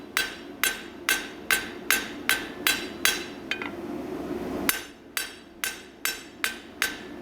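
Rhythmic ringing hammer blows forging a square steel bar round, a steady series of sharp strikes, pausing briefly before the pounding resumes at the same even pace.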